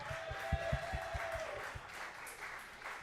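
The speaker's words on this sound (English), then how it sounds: "I would like to give a round of applause for Tag." Crowd applause at a Marvel Rivals charity tournament honoring its organizer: a scattered room of hand claps, some sharp individual claps standing out early, sustained for a few seconds at moderate, slightly distant level.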